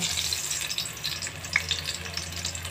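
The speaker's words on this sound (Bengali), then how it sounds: "এখন আমি এখানে বেগুনগুলো দিয়ে দিব" Eggplant fries in a pan with a steady, crackling hiss, occasional sharper pops and light stirring, close and continuous.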